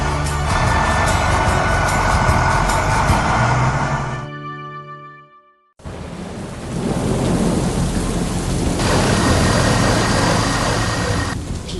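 Thunderstorm in an animated train rescue scene in the mountains: heavy rain and rumbling thunder roar loudly, briefly dropping away to near silence, then a fresh burst of downpour and thunder returns at full strength.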